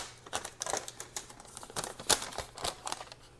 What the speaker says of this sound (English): Sorry for all the paper noise, because I know the microphone picks it up.